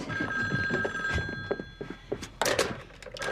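A telephone bell rings in repeated bursts, close and clear, mixed with a few thunks and shuffling movement nearby.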